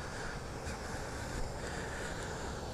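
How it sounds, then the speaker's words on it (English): A waterfall near Lee and Gordon's Mill in Chickamauga, Georgia, gives a steady, broadband rushing roar of flowing water. It holds at an even level throughout, with no voices. "I didn't know there was a waterfall back here."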